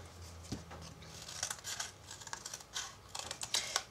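Scissors cutting out a stamped chipboard heart for a Valentine's Day card, heard up close as quiet, uneven snips and scrapes with short gaps between cuts.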